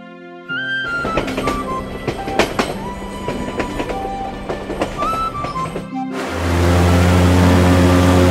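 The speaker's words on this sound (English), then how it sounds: "Train." Train, heard as rolling wheels clattering with rhythmic clicks and tonal whistles or horn notes, then a loud steady rumble building at the end.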